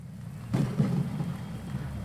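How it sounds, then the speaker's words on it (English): Thunder and rain effects in the Darkest Dungeon video game, a low rumbling thunder roll breaking in after a half second over a soft steady hiss of rain, moderately quiet and without voices. "I don't remember the Sunward Isles ever having rain effects."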